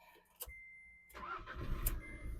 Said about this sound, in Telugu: కార్ స్టార్ట్ చేస్తాను.